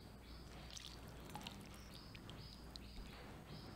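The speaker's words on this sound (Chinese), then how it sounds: "加入沉淀好的开水" Settled boiled water poured into a dish of blanched Chinese cabbage leaves for the classic Sichuan dish, a steady gentle trickle running close and alone throughout.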